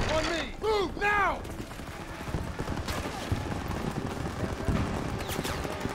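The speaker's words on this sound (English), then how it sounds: "Start the suppressive fire now." Call of Duty WWII battle, with scattered gunshots and rattling fire crackling at moderate distance behind a wailing siren-like tone at the start, beneath voiced commands.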